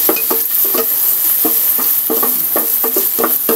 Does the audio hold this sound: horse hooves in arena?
no